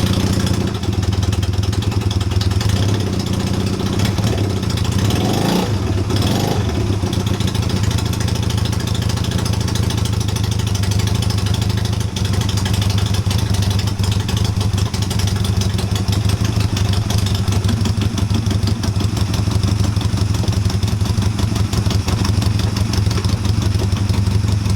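A Honda CB250 scrambler that hasn't run for a while, started with a bit of choke, then settling into a loud, continuous idle with a steady throb and some mechanical clatter close by.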